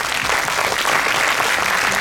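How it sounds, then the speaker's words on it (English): Children and staff at a school orientation day applaud together, a dense, even wash of clapping that stays loud and steady for about two seconds. "I guess we should clap more loudly."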